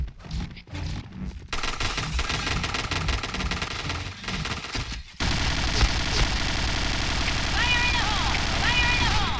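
Rapid bursts of video game gunfire crackle in a sustained, dense barrage, with a sharp cut partway through and continuous loud action noise afterward.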